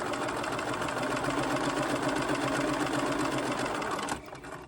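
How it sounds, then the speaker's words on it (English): A sewing machine stitches diagonally across a quilt block in one continuous, loud, even whir, cutting off abruptly near the end. "And then we simply sew down the line that runs right through the diagonal of the block."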